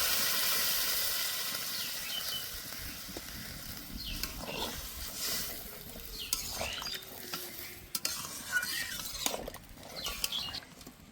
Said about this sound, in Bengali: ভালো করে কষে নিয়েছি, এবার আমি জল দিয়ে দেব।